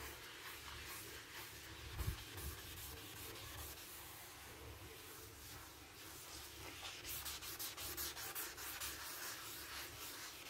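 Close, continuous scrubbing of a surface with baking soda, a rough rhythmic rubbing that speeds into quicker strokes near the end, with no talk.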